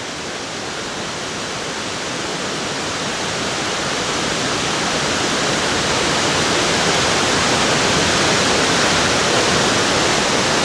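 Steady, loud rushing of a waterfall pouring into the Tellico River, a broad unbroken roar that swells slightly in volume as it goes on, with no voices.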